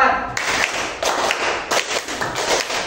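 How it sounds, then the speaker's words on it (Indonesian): Sharp hand claps sound in a quick counted pattern, grouped bursts of claps near and loud, with no talking. "tepuk 1, tepuk 2, tepuk 3, tepuk 4, tepuk 5"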